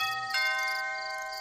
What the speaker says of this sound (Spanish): Bonnie, la esposa, se asomó desde el garaje cuando sonó el timbre,